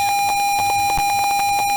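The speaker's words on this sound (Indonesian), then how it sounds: "buzzer akan menyala sebagai indikator suara" A buzzer in an Arduino simulation of an automatic garden-watering system sounds when the soil reads dry, giving a loud, steady string of rapid, evenly spaced electronic beeps with no other sound.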